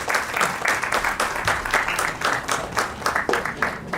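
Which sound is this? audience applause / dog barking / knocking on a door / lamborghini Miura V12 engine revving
audience applause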